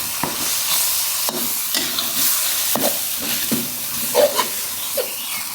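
Garlic stir-fries in a pan for Thai chili paste made with mackerel and coconut milk, a steady frying sizzle with repeated scraping stir strokes at an irregular rhythm, close by and alone without talk.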